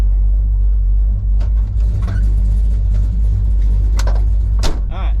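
A muscle car engine with Porter mufflers rumbles loudly and close by, a deep steady idle broken by a few short revving bursts.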